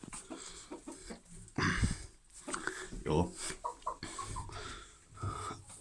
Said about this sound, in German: Der Gockel, da hinten ist er.